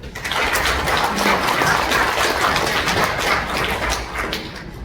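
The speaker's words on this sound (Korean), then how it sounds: "자, 이분을 위해서 박수 한번 쳐주십시오" A room full of people claps steadily for several seconds, a dense even patter of many hands at close range with no talking over it.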